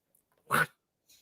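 A single short bark from a retired foxhound, fairly faint and alone, with quiet before and after.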